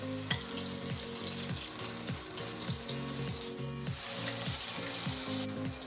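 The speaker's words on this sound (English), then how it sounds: "Add oil to fry the prawns. Let's fry the prawns now." Prawns fry in oil for Goan prawn balchao, a steady, fairly quiet sizzle that grows slightly brighter partway through over a repeating low background hum.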